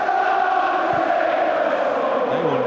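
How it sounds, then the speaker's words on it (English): Newcastle United supporters in a packed stadium at an FA Cup semi-final against Manchester United keep up a steady, loud roar of crowd noise and chanting for the whole stretch. "They will never stop cheering"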